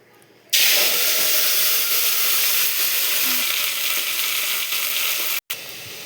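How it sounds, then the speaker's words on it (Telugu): Washed gongura leaves dropped into hot oil, bursting into a loud, steady close-up sizzle and hiss that carries on evenly and cuts out briefly near the end. "ఆయిల్ కాస్త హీట్ అయిన తర్వాత మనం ఇందులోకి వాష్ చేసుకున్న గోంగూరను వేసుకుందాం."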